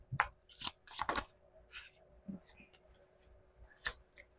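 Slippery tarot cards being shuffled by hand, producing quick, close, irregular bursts of riffling and slapping with brief quiet gaps in between and no one speaking.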